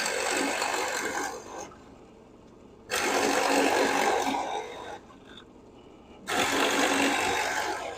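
Power drill driving a 1-inch Forstner bit into a wooden greater scaup hen decoy during hollowing, heard as three loud grinding bursts separated by quieter pauses, with no talking.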